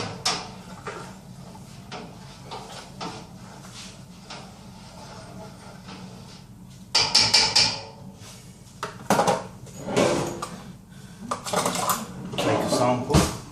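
Home brew mash being stirred in a pot, with clattering and knocking of metal against the pot in irregular bursts, louder in the second half, and a voice talking intermittently.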